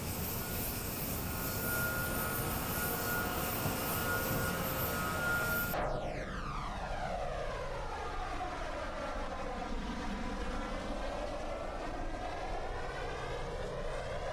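A loud, steady locomotive engine roar in Train Simulator Classic, sounding like a jet aircraft, drones on near Bad Homburg station, its tone shifting midway into a sweeping, phasing whoosh.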